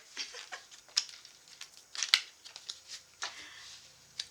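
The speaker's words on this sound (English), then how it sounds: "I'm gonna shuffle this for you" Cards being shuffled up close, a series of quick riffling bursts and soft flicks in an uneven rhythm, with no talking.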